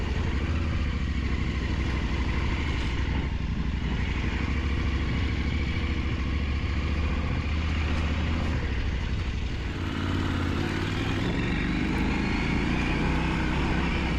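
Off-road vehicle engine on a rally raid in Provence, a loud close engine roar held under sustained throttle, with rough ground noise as it pushes on.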